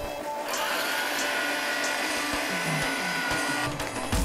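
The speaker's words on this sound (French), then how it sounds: "Et je vais mixer." Electric mixer whirring steadily as drained potatoes are blended with butter for hachis parmentier, a loud, continuous motor drone with slight wavering and low thumps of the blade in the mash.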